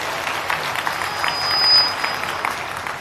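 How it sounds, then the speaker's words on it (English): Audience clapping at a live Ganesh Utsava concert in Bengaluru, a steady, moderately loud patter of many hands that swells briefly midway, with a faint high tone running underneath. "Okay, you clapped, so I guess it's audible."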